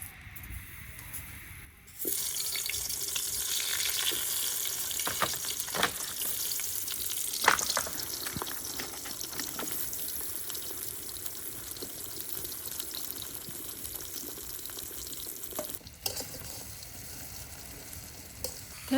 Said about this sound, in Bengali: আমি এখন বেগুন ভেজে নেব।